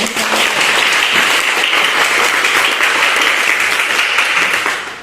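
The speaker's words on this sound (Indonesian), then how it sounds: "berikan aplaus dulu" A classroom full of students claps for a classmate's answer, a loud, dense burst of applause that holds steady for several seconds before tapering off.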